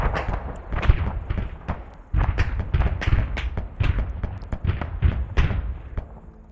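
Autocannon pounding in a video game, a steady series of heavy, evenly spaced thumping shots repeating throughout at moderate loudness, with no talk over it.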